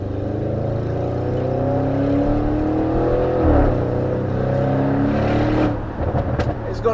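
A 730 bhp Audi RS6 estate pulls under load, its engine and exhaust droning steadily as revs rise in long sweeps, then easing off near the end, with a voice talking over it.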